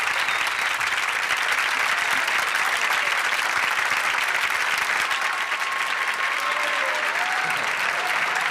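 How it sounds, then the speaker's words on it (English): Studio audience at a 1971 television talk show applauding steadily, a dense, even wash of clapping that holds at the same level throughout with no pauses. "your applause warms the cockles of me"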